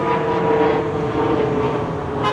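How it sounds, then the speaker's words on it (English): A fixed-wing airplane passes overhead outside a U-Haul lot, a steady broadband engine drone holding at an even level throughout, with no voices. "There's a plane up in the sky."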